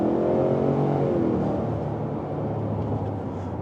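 A 2024 Ford Expedition King Ranch 4x4 with 400 horsepower and 480 pound-feet of torque accelerating hard on the road, a loud, sustained engine roar heard from inside the cabin that rises in pitch and then eases slightly.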